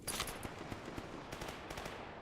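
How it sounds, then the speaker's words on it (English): Rapid gunfire from the shooter game S.T.A.L.K.E.R. G.A.M.M.A., a burst of sharp cracks and bangs in quick irregular succession over a steady noisy background, loud and close throughout. "these gunshots are really good"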